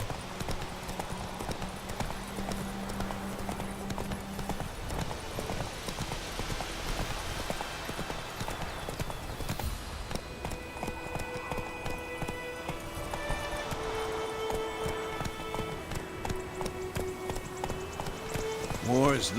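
In The Witcher 3 video game, a horse gallops with a fast, steady clip-clop of hooves heard close, running continuously under character voices talking, with a brief neigh near the end.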